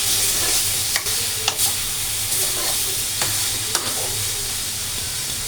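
Turmeric and chili powder fry in a pan with a steady, loud sizzle, broken by occasional scraping clicks of a spoon stirring through the mixture.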